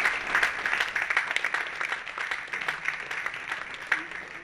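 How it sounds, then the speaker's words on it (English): A classroom audience applauds an interviewed veteran, producing steady, moderately soft clapping from a group that carries on evenly for several seconds. "Good round of applause."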